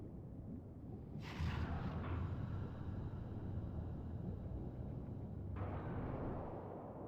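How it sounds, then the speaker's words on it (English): A giant explosion in the video game Ghost Trick, set in the deep sea, comes as a long, loud, rumbling roar with a sharp hiss that starts about a second in, then a second surge near the end, with no voices. "So that's the cause of this giant explosion."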